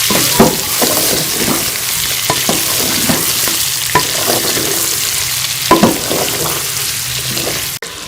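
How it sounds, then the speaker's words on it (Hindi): Chopped garlic frying with chicken pieces in a pan, a steady broadband sizzle running throughout with repeated clacks and scrapes of stirring, close and fairly loud, no voices. "इसमें हम लहसुन शामिल कर लेंगे और इसे 1 से 2 मिनट जो है वो हम चिकन के साथ फ्राई कर लेंगे।"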